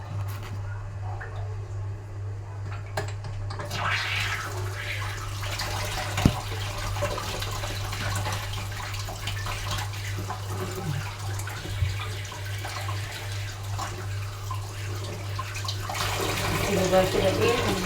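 Kitchen tap water runs continuously while fresh mint is washed, a steady splashing stream with a low hum beneath it and a few brief knocks, as someone speaks over it.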